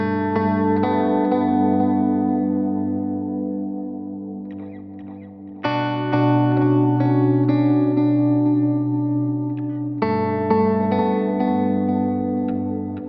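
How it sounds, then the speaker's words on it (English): Electric guitar through an ambient preset on a Line 6 Helix with heavy reverb and a little low-res delay, sustained chords swelling and washing into each other, with a new strum restriking every few seconds, loud and alone. "So here's my ambient preset without the feedbacker added."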